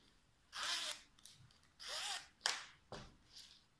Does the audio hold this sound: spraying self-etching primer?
no